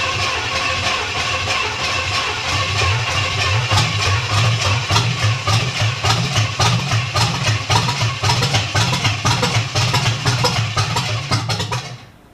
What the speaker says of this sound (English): I'm going to hook up the battery and I'm going to start cranking her over